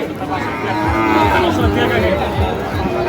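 Sahiwal bull calves and cattle at a busy livestock market in Dinajpur low in deep, drawn-out moos that overlap one another, loud and near, over a constant crowd murmur.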